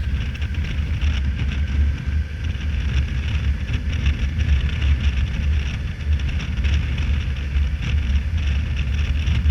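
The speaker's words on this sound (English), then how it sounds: "Here you see the bike is in 6th gear and it's doing 30 miles, around 30 miles slow speed." A 2015 Kawasaki Versys 1000 motorcycle cruising in 6th gear at about 30 mph, a steady low engine drone mixed with heavy wind rush, loud and continuous with no speech.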